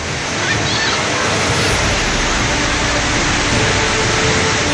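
Rushing floodwater from heavy rain surges past with a dense, loud, continuous roar that stays steady throughout, with no clear voices above it.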